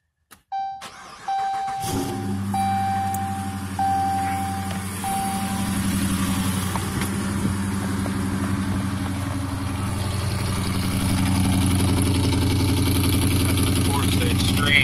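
A 2015 Dodge Challenger R/T with Kooks long-tube headers and a Corsa exhaust cranks and fires about two seconds in, then settles into a loud, deep, steady cold-start idle with a chime sounding before and after the start.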